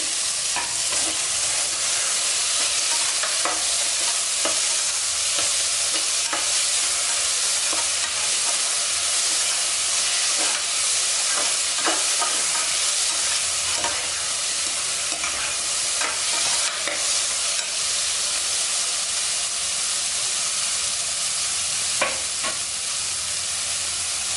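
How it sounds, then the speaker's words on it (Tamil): Steady, loud sizzling of onions, garlic and goat head frying in a pan, with occasional scraping stirs throughout, continuous and close. "அதே போல் தலையை சேர்த்து வதக்கி விட்டுக்கலாம்"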